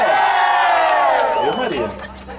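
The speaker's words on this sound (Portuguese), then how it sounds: "Quem gosta da Maria, dá um grito" A crowd shouts together in a loud, sustained cheer whose pitch rises and then falls away, with some voices trailing off near the end.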